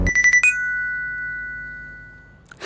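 A short burst of four rapid electronic beeps from a phone message notification followed by a bright chime that rings out and slowly fades, clear and close.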